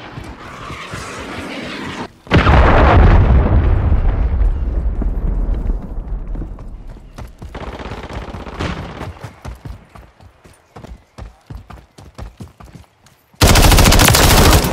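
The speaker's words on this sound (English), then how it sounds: "Friendly cruise missile deployed." Call of Duty MW3 Team Deathmatch on the Rundown map: loud sustained explosions and rolling gunfire open, then bursts of rapid shots and scattered pops thin out before a final loud blast at the end.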